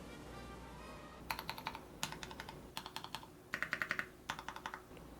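Typing on a mechanical keyboard fitted with GMK black two-tone ABS keycaps, heard as quick bursts of crisp, clacky keystrokes in five short runs separated by brief pauses, close and fairly quiet.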